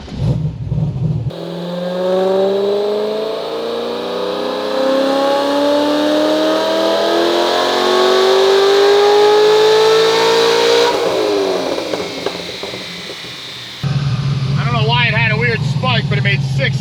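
A stage 4 supercharged (Procharger) car engine on a dyno, revving up in one long rising pull that climbs steadily for about ten seconds, then drops off with a whine. Loud and close, with talk over the idle before and after.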